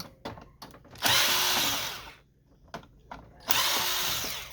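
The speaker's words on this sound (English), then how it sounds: "From the bottom we remove 3 screws." A power tool whirs in short bursts while it removes screws from an HP Officejet 3830 printer during disassembly. Two longer high-pitched runs are broken up by brief clicks and pauses, close and moderately loud.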